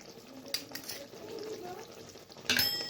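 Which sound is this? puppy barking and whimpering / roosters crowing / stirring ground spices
stirring ground spices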